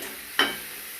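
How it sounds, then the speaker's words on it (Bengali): A short stir scrapes through capsicum frying in a pan, one brief close burst of sizzling and stirring over a steady low hiss. "এখন কিন্তু ভালো করে নেড়ে ছেড়ে নিচ্ছি।"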